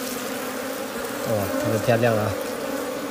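Wild bees buzz steadily around a honeycomb nest in an old hillside forest, a close, droning hum that swells for a moment as someone speaks briefly over it.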